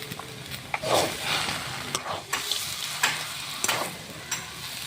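A spatula scrapes and turns vegetable chop filling mixed with coriander, fried peanuts, sugar, pepper and spice in a pan, a run of close, crisp stirring strokes over a low sizzle, no voices.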